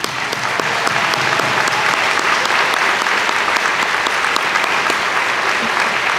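At an opening day convocation, an audience applauds new faculty members, a loud, dense, sustained round of clapping that holds steady throughout, heard on its own.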